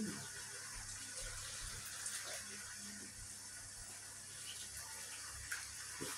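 Water pours steadily into a cooking pot of chicken, a faint continuous splashing with light background noise and no pauses.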